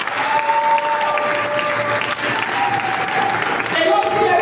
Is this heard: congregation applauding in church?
yes